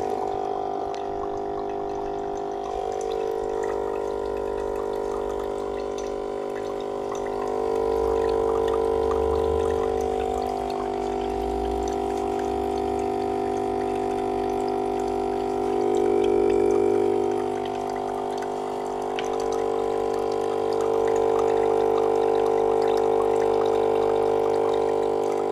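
A Tommee Tippee formula machine pours cold water with a steady pumping hum and trickle, swelling in a few louder surges and otherwise running continuously at close range.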